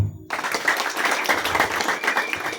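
A church congregation claps together in a dense, continuous wash of applause that starts abruptly after a brief silence and holds steady to the end.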